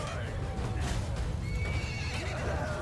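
Cavalry horses charge in a large Vlandia versus Khuzait battle in the video game Mount and Blade Bannerlord, with neighs and whinnies over dense galloping hooves in a constant, busy battlefield din.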